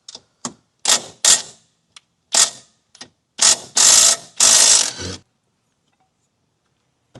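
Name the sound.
ratchet with E16 socket removing brace bolts on A90 Supra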